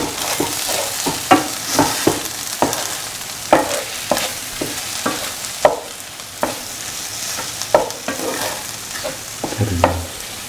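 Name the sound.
scrambling eggs in a frying pan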